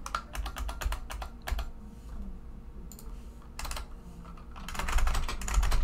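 Rapid typing on a computer keyboard while entering code for a Unity game script, close crisp key clicks in bursts with short pauses between them.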